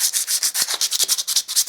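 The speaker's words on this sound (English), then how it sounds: "I've scraped back best I can and I'm going to give it a sand down" Sandpaper rubbed by hand over the scraped edge of a painted wall, a steady back-and-forth scratching in quick rhythmic strokes, close and fairly loud with no talk.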